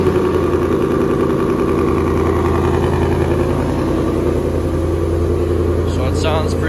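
A 2021 Mustang 5.0-litre V8 engine cranks over and settles into a steady, deep idle, loud and close, with a low rumble throughout.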